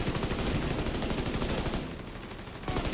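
Rapid gunfire in a video game, a dense run of loud shots fired in quick succession, pausing briefly before resuming near the end.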